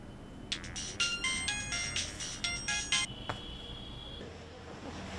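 A melodic phone ringtone plays in repeated short bursts, then a steady electronic tone follows; moderately loud, close, with faint background noise and no speech.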